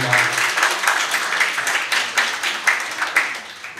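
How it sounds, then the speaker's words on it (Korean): Sustained applause from a crowd at a celebratory dinner, dense clapping with slight swells in intensity, fairly loud and continuing throughout without speech. "다시 한번 뜨거운 박수 부탁드립니다."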